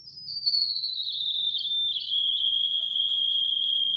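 Steady electronic test tone from a pressure transducer, sliding gently downward in pitch before settling around a constant high whine, clear and continuous over a faint low hum.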